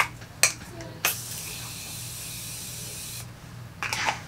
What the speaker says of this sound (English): Now I'm gonna go ahead and spray my face with my Morphe continuous setting mist